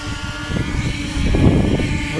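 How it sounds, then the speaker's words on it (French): A malfunctioning CFly Mini 2 drone buzzes in flight, a loud steady propeller whine with shifting tones that swells and grows rougher toward the middle, no voices over it. "Donc vous voyez que le drone, eh bien au final, il fait comme ça."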